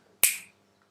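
A single crisp finger snap, close and fairly loud, cutting off quickly with a short decay and silence on either side.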